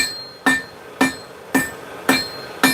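A hammer strikes forge-welded steel on an anvil during blacksmithing. Five sharp, ringing blows land at an even, unhurried pace, each ending in a short metallic decay.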